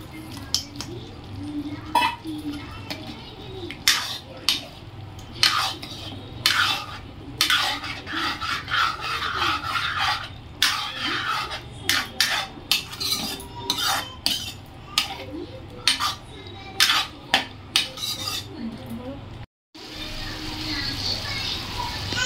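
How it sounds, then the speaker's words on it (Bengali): Chilli chicken pieces tipped into a pan with cornflour slurry and stirred, a run of close metallic scrapes and clinks from the utensil against the pan over a low sizzle, irregular and busy throughout, with a brief pause near the end. "এবার চিকেনগুলো দিয়ে দেবো।"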